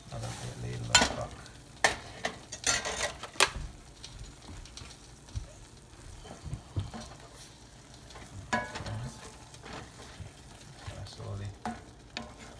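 Creamy risotto sizzles in a pan as a ladle of stock goes in, with soft bubbling and bursts of stirring and spoon scrapes, fairly quiet and close.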